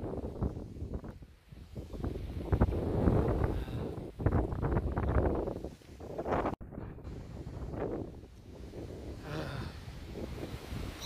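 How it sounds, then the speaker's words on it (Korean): Strong gusting wind during rain on Mudeungsan mountain, roaring in loud surges across the microphone, rising and falling continuously. "바람소리 들리죠?"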